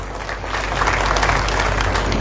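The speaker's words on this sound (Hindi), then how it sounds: "एक बार जोरदार ताली" Steady applause from a crowd at a satyagraha ceremony in Auwa, dense clapping sustained throughout at moderate loudness.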